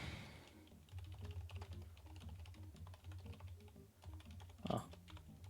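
Typing on a computer keyboard into a chat: rapid, steady clicking keystrokes at close range, quiet, over a low steady hum, with one louder knock near the end.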